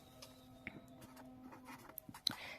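Pen scratching on paper while a solution is written out, a run of faint, sparse strokes and ticks close by with small taps toward the end.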